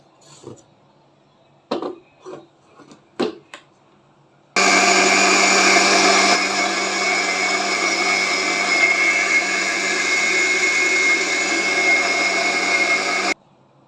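A blender whirs steadily for about nine seconds, mixing banana, cold milk and juice, loud and continuous after a few brief knocks and clatters at the start.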